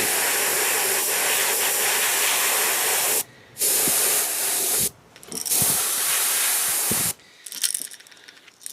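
Airbrush spraying paint onto crappie fishing lures in long broadband hissing bursts, several sustained passes separated by short pauses, close and loud.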